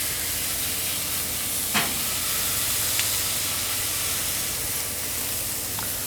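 Smashburger patties sizzle on a flat griddle at a summer cookout, a steady frying hiss with a few short scraping clicks as a spatula works the meat; no one talks.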